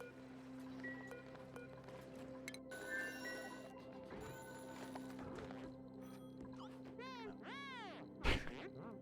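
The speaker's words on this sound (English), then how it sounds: "I guess Bear wanted to answer a phone" A synthetic telephone ring chirps in warbling bursts within the colony-building game Oxygen Not Included, sounding over a steady droning game background with light clicks and a sharp knock near the end.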